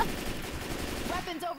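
Rapid automatic gunfire in Left 4 Dead 2, a fast stream of shots rattling steadily at moderate volume under a chaotic firefight, tapering near the end as a voice talks over it.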